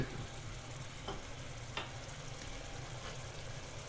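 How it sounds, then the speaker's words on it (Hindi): Potatoes and peas being added to a frying masala gravy for an aloo matar curry, with a steady sizzle and occasional stirring scrapes, no talking. "अब हम इसमें आलू और मटर शामिल करेंगे"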